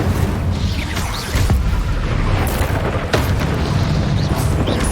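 A fiery Incendio spell cast in the video game Hogwarts Legacy gives a loud, booming whoosh with sharp bursts, amid continuous combat noise and no talking.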